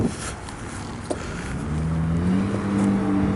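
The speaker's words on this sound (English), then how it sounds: "Nah, that's not the bus. It's one of those... It's a truck." A truck rolls past outside, its engine rising from a low rumble into a louder, steady drone over a few seconds, heard from indoors with no talking.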